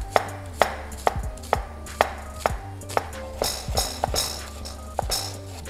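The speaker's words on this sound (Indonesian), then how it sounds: "kita cincang bawang bombaynya sama bawang putih" Onion and garlic chopped with a knife on a cutting board, a steady run of about a dozen sharp, evenly spaced chops, close and distinct with no voices.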